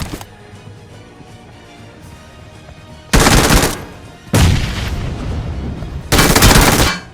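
Gunfire in a shooter video game, three loud, close bursts of rapid automatic fire separated by quiet gaps.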